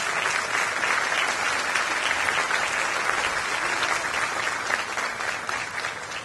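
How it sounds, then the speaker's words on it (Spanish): A large graduation-ceremony audience at ITLA applauds Taiwan government representatives, a dense, steady wash of many hands clapping that holds loud and even throughout, with no voices standing out. "quiero un fuerte aplauso para ellos."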